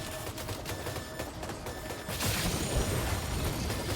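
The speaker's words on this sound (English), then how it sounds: "Warrior shotgun" Shotgun blasts in the video game Death Stranding 2 crack out as dense, overlapping bursts of gunfire, growing louder and thicker in the second half.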